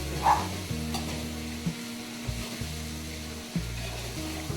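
Three mixed vegetables sizzling as they are stirred in a frying pan for a bhaji, with a steady frying hiss broken by repeated scraping strokes of the spoon, close up and without talk.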